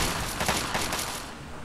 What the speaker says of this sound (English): Hey, there's gunfire.